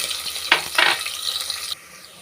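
Garlic cloves, curry leaves and chopped small and large onions hitting hot oil in a pan, giving a close, bright sizzle with a couple of stirring bursts before it cuts off abruptly.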